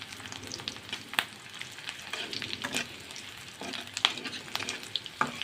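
Onion and bay leaves frying in oil in a pan, a soft sizzle broken by scraping stirs and sharp spatula taps against the pan at irregular intervals, fairly quiet and close.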